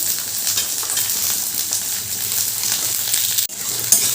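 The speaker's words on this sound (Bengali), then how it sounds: "আবারও ক্যাপসিকামটা পেঁয়াজের সাথে ভালো করে ভেজে নিচ্ছি" Cut capsicum frying with onion in a pan for restaurant-style chilli chicken, a loud, dense, steady sizzle up close with faint stirring scrapes and a brief break near the end.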